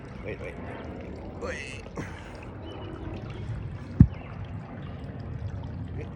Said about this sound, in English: look at my fountain